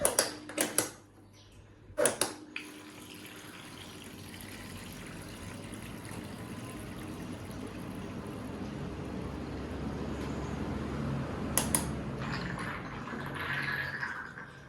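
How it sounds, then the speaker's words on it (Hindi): Water pumped through an air cooler and trickling down its side pads, a soft steady rushing that builds gradually, broken by a few sharp clicks and knocks near the start and toward the end. "पावर ऑन किया तो ये पानी यहाँ से निकल के साइडों पे गिरने लगा"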